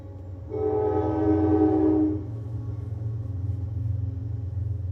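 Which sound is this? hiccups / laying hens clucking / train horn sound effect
train horn sound effect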